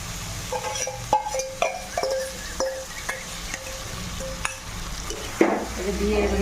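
Chicken pot kaleji, chicken liver and gizzard, frying with spices in a pan, the sizzle steady and close while a spoon stirs and scrapes, clinking against the metal at irregular moments.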